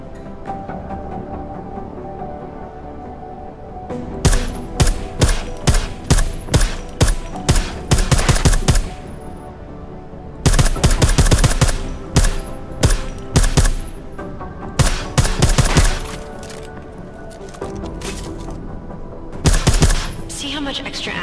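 Silenced gunshots in the shooter game Deus Ex: Mankind Divided ring out in loud, rapid bursts of sharp muffled pops, with repeated volleys separated by short pauses and game sounds in between.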